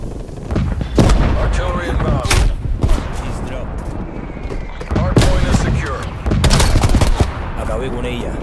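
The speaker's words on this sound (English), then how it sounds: "Artillery targeting detected. Artillery inbound." Artillery strikes and rapid gunfire from the video game Call of Duty Black Ops Cold War, with repeated loud booms and bursts of shots over a busy battle din, mixed with game voice lines.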